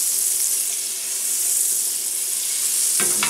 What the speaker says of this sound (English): I'm going to let the butter melt.